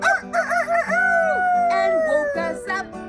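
A human voice imitates a rooster crowing at a folk music festival, giving one long, loud, drawn-out cock-a-doodle-doo that rises and falls over about three seconds.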